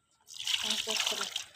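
Water pours out and splashes steadily for about a second, close by, as fish are washed.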